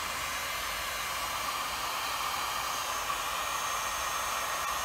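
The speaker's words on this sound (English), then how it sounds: "I'm trying to heat only the wheel and not the shaft." A heat gun or torch roars steadily while heating a wheel to loosen it from its shaft on an old Lister D engine, a constant loud airy rush with no breaks.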